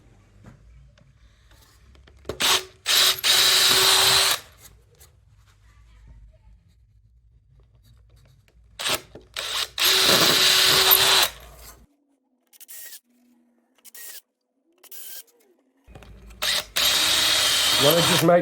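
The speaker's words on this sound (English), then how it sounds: "So I'll drill all the holes in the steering wheel" A power drill whirs through wood in several loud bursts of a few seconds each, drilling holes in a wooden toy car, separated by quiet pauses, close to the listener.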